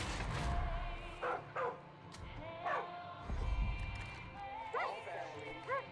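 Hunting dog Boomer in the Far Cry video game barks in a few short, sharp bursts with whimpers and yips between, set against game ambience and other background sounds.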